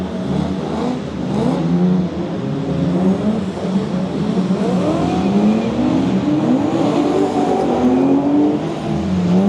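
A BMW E30 drift car revs hard at a semi-pro drifting event, its engine note rising and falling continuously with loud, close, steady roar and possible tire squeal throughout.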